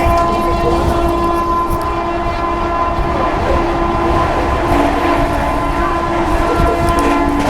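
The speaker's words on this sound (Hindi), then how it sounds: "अपनी फुल हॉकिंग और अपनी फुल हाई स्पीड के साथ स्किप कर रही हुई है अपनी गोंडवाना सुपरफास्ट एक्सप्रेस" Gondwana Superfast Express, an Indian passenger train, rushes past at about 130 km/h with its horn sounding steadily throughout, over a continuous loud rumble of wheels and carriages, close by.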